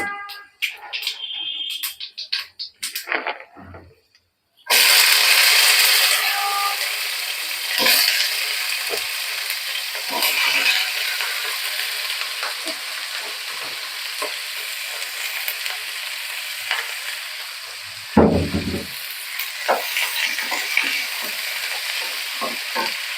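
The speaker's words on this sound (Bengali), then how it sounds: "আমি এখন ভাজিটা বসাবো।" Mixed vegetables with panch phoron and dried chili hit a hot pan, starting with a few clatters before a loud sizzle erupts and continues steadily, with occasional stirring knocks and scrapes.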